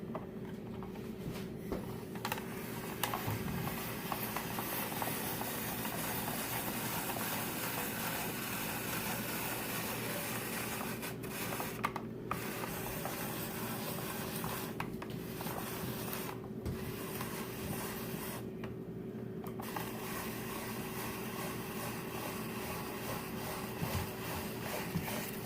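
A hand spiralizer with suction cups on a cutting board turns zucchini into noodles, a steady close grinding and whirring that runs unbroken through the whole stretch.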